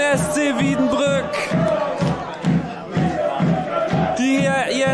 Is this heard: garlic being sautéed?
no